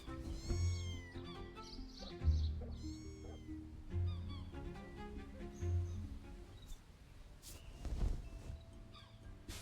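Kittens meowing in the video game Mika and the Witch's Mountain, several high, plaintive mews repeating every second or two over soft background game music and ambience.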